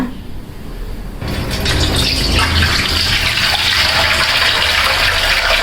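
Water drains and gushes steadily from a mixture of grated potatoes and soaked sago. The sound is loud and close and continuous, starting a little quieter and then swelling into a full, sustained pour.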